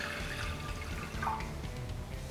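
Water poured into a pan to make masala tea, a steady close splashing and trickling stream running continuously with no voices.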